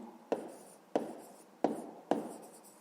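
Pen strokes on paper during a fifth-grade maths exercise, four short sharp scratches at roughly even intervals, close and quiet with no voice.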